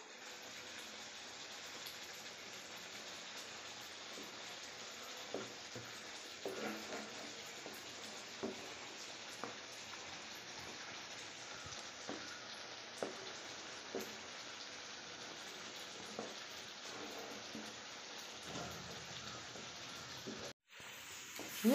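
Sesame oil (gingelly oil) frying in a pan while cooking village-style ulundhang kali: a soft, steady sizzling hiss with faint scattered crackles throughout, fairly quiet, with no talking.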